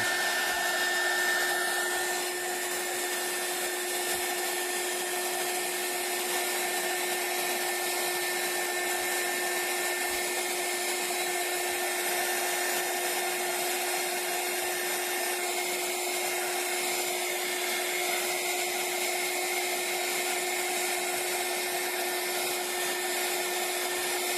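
Heat gun blowing to shrink plastic shrink film around a small product, with a continuous loud whirring roar and fan hum lasting the whole stretch, steady and alone.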